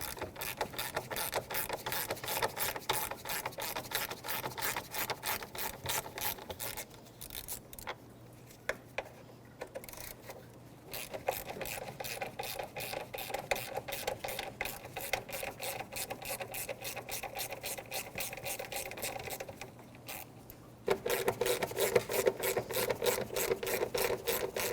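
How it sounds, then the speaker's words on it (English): Ratchet and 10mm socket working the radiator shroud bolts on a Nissan Frontier, a long run of fast, even mechanical clicks that pause briefly and resume, close and fairly loud. "take the 3 bolts here connecting the shroud to the radiator, 10mm socket"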